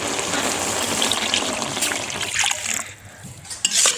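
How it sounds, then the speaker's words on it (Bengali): Water gushes steadily into a cooking pot of soup for a few seconds and then tapers off, ending in a few light splashes. "এবার আমি পানি অ্যাড করে দেব।"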